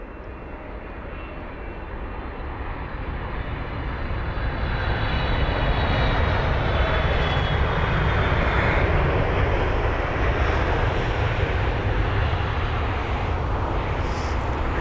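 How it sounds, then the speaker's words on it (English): A Japan Airlines Boeing 777 touches down at London Heathrow, its engine roar swelling from moderate to loud and holding as a broad, continuous rumble as the jet passes close by. "let you all admire the touchdown of this 777"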